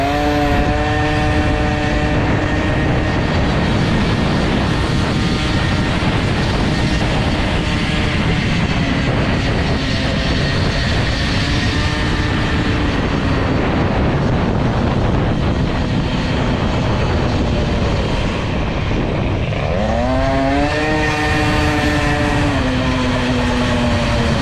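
A Peugeot 103 moped with a Doppler exhaust, stock and being run in, drones steadily at light throttle with a continuous engine tone that rises and shifts pitch near the end, loud and close.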